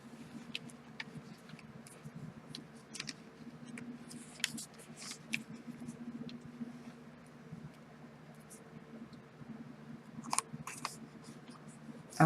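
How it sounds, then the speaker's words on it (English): Scissors trim the edge off a paper pocket letter, giving scattered quiet snips and paper rustles over a faint background hum, close by. "And I will trim the ugly side off."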